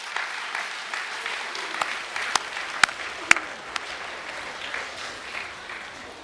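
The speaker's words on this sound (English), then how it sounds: "give him a clap, boys." Boys in a Year 8 and 9 academic awards assembly clap for an award winner, a fairly soft, steady patter of many hands with a few sharper, louder individual claps standing out near the middle.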